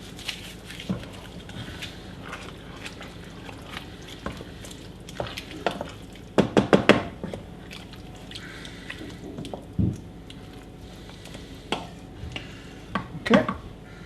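Spoon stirring a lasagne mixture in a cooking pot, with intermittent scraping and clinking strokes against the pot over a low background, louder bursts near the middle and end.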